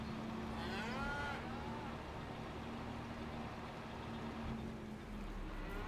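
Cows moo inside a cow barn in Farming Simulator 25, one long drawn-out low moo early on over a steady background hum, followed by quieter ambient farm noise.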